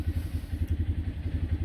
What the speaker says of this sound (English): Sorry about the engine noise in the back.